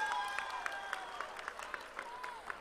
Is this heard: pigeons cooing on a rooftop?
no